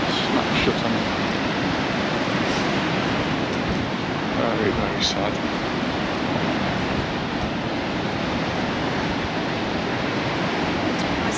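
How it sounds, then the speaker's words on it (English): Ocean waves on the beach at Playa de Palma, Mallorca, roll in toward a seawall as a steady broadband wash with some wind noise, while a nearby voice speaks briefly over the surf. "the waves are getting now closer to the seawall"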